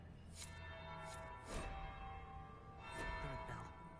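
A bell tolls several times in the video game Dragon Age Inquisition, faint and echoing under a steady background ambience.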